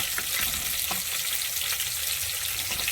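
Curry sizzling steadily in a pan after a little water is poured in, a constant close frying hiss with faint stirring scrapes throughout.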